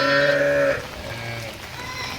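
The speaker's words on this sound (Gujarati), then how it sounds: "ધાર્મિક એકારે બબે ઘેટા દવરાવી શકું" A sheep gives one loud, close bleat that lasts under a second, followed by quieter farm background with a faint animal sound.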